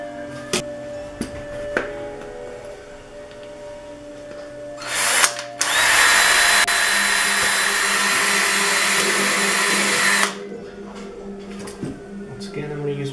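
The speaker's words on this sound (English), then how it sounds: "So this time I'm going to drill right through the plate." A power drill bores through a plate on a homemade Fallout Supervisor-style helmet, a loud, steady whining grind lasting about five seconds. Quieter background sounds come before and after it.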